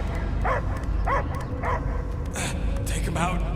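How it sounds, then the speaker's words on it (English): A dog character in the Guardians of the Galaxy video game barks in short, sharp bursts spaced about half a second apart, over steady game ambience, with voices talking around the barks. "I hear only barking."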